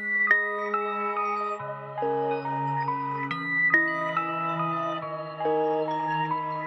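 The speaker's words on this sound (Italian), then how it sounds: "Il primo suono è un suono di keys che viene da Omnisphere, dalla bank di The Martians, chiamato Pace" Keys preset called Pace from the Martians bank in Omnisphere, playing a dark drill chord pattern of many slightly offset notes that change every couple of seconds, alone and fairly soft.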